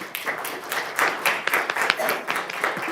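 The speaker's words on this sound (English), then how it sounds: "I love that everybody is clapping for everybody" Scattered, moderate clapping from the audience at a city council meeting, uneven hands close and far, with faint voices beneath.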